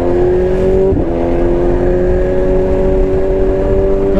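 Loud, steady engine drone of a BMW S1000 RR or Yamaha R1 sport motorcycle at high speed, with sustained whine and wind roar, close and continuous.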